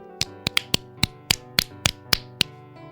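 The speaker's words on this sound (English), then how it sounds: "And now clap these fingers on your left hand palm" Two fingers tap against an open left palm, producing about ten sharp, crisp claps in an uneven rhythm over a soft sustained musical tone in the background.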